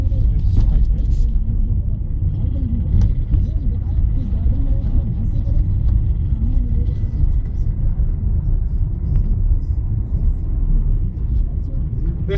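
A Tata Vista D90 car on the move, with a steady low engine and road rumble running throughout while someone talks over it.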